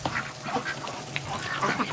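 Ducks quacking in short, scattered bursts at moderate distance, a soft chorus of calls with no talking.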